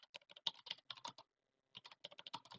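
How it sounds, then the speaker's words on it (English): Quick, crisp clatter of typing on a computer keyboard, close and fairly faint, in two bursts of rapid keystrokes separated by a short pause. "why are you typing?"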